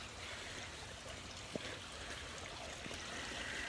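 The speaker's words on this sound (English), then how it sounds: "That's the water fountain." Outdoor water fountain running, a steady broadband splashing and trickling wash that holds even and constant throughout, with no voices.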